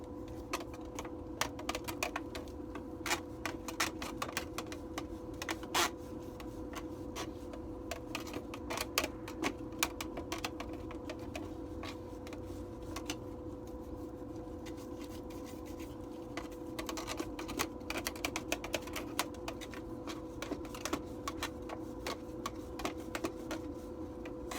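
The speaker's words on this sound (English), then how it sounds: "I also like to have the dryer running." A clothes dryer running with a steady low mechanical hum while a cleaning brush swirls inside its vent, producing irregular scratchy scraping and tapping throughout, close and moderately loud.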